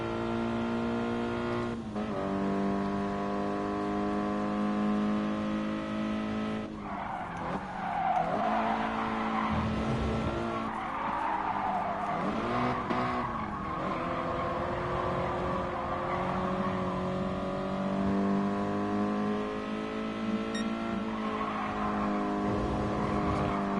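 A Toyota GT86 racing around a circuit in GT Sport, its engine droning and rising and falling through gear changes, with tyre squeal and other cars' engines mixed in throughout.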